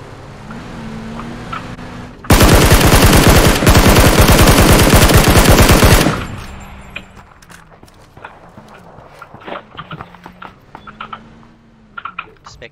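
Rapid automatic gunfire in the PUBG shooter game on PC, fired at a target about 200 meters away, a loud dense burst of about four seconds, then quieter scattered shots and game sounds.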